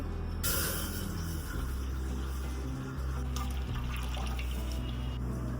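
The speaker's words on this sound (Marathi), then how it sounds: "ह्याच्यामध्ये दोन वाट्या म्हणजे एक ग्लास पाणी टाकते" Water splashes and gurgles steadily into a pot on a gas stove, a continuous pouring sound close by with no talking.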